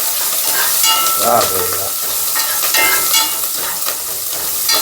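Ginger and green chilies fry and hiss in a hot pan, stirred steadily with scraping utensil strokes over constant loud sizzle; a man briefly exclaims in appreciation.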